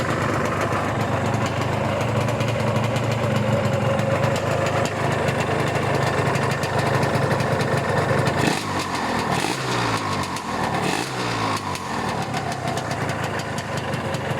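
A VR150 motorcycle engine starts on the first try and runs at a steady idle throughout, with a few louder revving bursts near the end.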